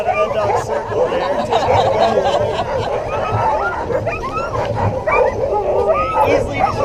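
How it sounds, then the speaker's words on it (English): Sled dogs bark and yip before an Iditarod sled dog run in Juneau, a busy chorus of repeated barks mixed with people talking and laughing nearby. "Good dogs."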